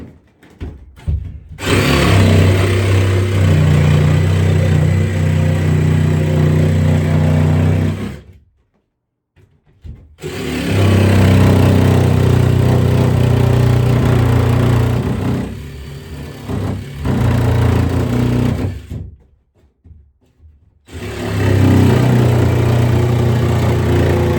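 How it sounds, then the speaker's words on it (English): A loud power tool roars through a wooden door, cutting a hole, in three long runs separated by brief pauses, harsh and close. "Going to cut a little hole in the door for a little window pane."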